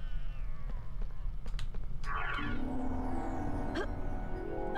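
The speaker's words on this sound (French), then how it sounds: "Oh, le chat, il est gentil, le chat." A cat meows in the Harry Potter PS1 video game, a few rising and falling mewing calls over a constant low background hum and game ambience.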